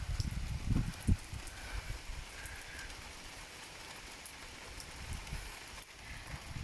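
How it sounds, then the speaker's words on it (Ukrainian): Light rain falls outside, a soft, diffuse patter with occasional closer drips and thumps, faint and steady for several seconds with no voices. "Закінчився дощик."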